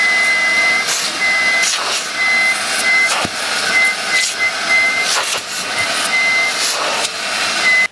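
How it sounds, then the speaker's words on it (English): Vacuum cleaner running loud and steady inside a BMW E46 Coupe M Sport with Alcantara interior, a continuous close whine with intermittent high beeping tones and brief bumps as the nozzle moves, no talk. "So first of all, we're gonna vacuum."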